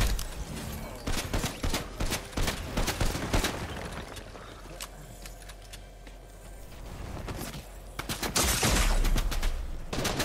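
Hunting rifle gunfire in the video game Fortnite, rapid loud cracks and bursts of shots from several weapons clustering through most of the stretch, close and heavy over game effects, easing in the middle before swelling again near the end.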